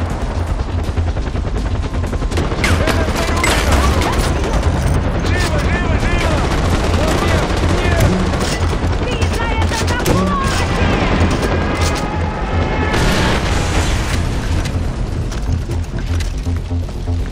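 Far Cry 4 battle: dense, continuous gunfire and artillery blasts roar loudly throughout, with voices shouting in Russian for cover mixed into the chaos.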